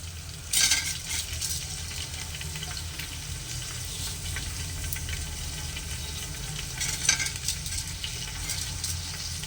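Washed rice is stirred into lentils frying in a pot for vegetarian cauliflower khichuri: a continuous close sizzle with scraping stirs and a couple of louder clattering bursts, no voices.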